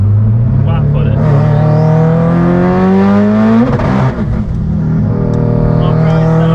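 A Subaru STI accelerates flat out in second gear, its engine note climbing steeply and loudly for several seconds before a shift or lift, then settling into a lower hum, heard from inside the car.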